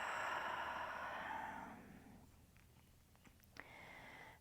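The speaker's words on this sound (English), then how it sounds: "And exhale." A long, soft breath exhaled during a gentle Pilates workout for piriformis syndrome, a broad airy rush that fades over about two seconds, followed by quiet room tone and a few faint small clicks.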